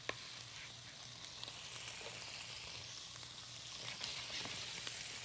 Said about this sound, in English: Got a couple of tablespoons of butter that I'm going to put in the rice pan. I'm going to add my onions.